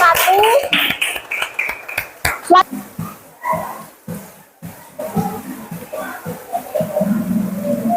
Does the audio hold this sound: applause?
yes